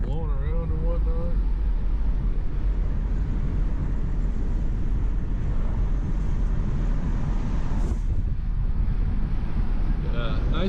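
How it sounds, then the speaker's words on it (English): Strong wind buffets and roars around a car driving on the Las Vegas Strip at night, a steady loud rumble with gusts throughout and a voice briefly at the start. "And it's windy, man. I might have to roll my windows up. There's stuff all blowing around and whatnot."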